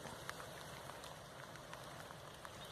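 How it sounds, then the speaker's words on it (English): Light rain patters steadily outdoors on a walk in the Yorkshire Dales in November, a soft, even hiss with scattered faint drop taps and no talking. "it's starting to rain now"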